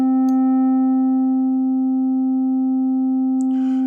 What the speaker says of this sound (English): it adds more of a sine wave-like oscillation to the sound